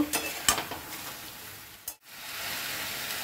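Chili paste sizzling in a hot pan for a Bengali chicken dum pokto, with stirring scrapes and short sharp clinks amid a steady frying hiss, no voices.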